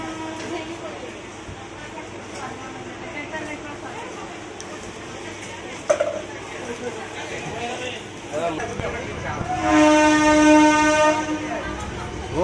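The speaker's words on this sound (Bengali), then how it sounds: "আমাদের ট্রেন ছেড়ে দিয়েছে।" A passenger train pulls out of a station bound for Mandav Junction, a steady rumble of rolling wagons building in volume, with a brief clank midway and a swelling mechanical hum near the end as it gathers speed; people talk in the background.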